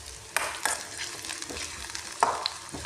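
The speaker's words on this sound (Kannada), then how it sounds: "ಉಳ್ಳಾಗಡ್ಡಿ ಮತ್ತು ಮೆಣಸಿನ್ಕಾಯಿ ಹಾಕ್ಕೊಂಡಿದ್ದೀನಿ ನೋಡ್ರಿ" Sliced onion and green chilli frying in a pan give a steady soft sizzle, broken by a few sharp scraping stirs of a spatula, close and without talk.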